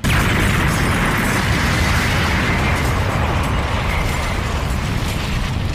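A loud, sustained roaring blast of Kuma's laser beam in the One Piece anime, with crackling, rumbling texture, starting abruptly and holding at full intensity before easing slightly.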